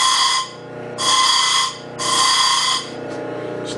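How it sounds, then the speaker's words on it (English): A small carbide grinder sanding down the diameter of a screw head, heard as three loud, bright whining bursts of about a second each, separated by short pauses, close to the listener. "So you gotta just sand down the diameter of the head just a little bit for it to fit in the counterboard."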